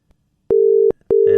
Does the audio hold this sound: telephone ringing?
yes